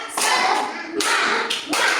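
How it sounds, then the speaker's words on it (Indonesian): A class of schoolchildren doing a rhythmic clapping routine, bursts of many hands clapping in a patterned beat with short pauses between, near and loud, with voices chanting along. "mari kita menyegarkan pikiran terlebih dahulu dengan cara tepuk semangat"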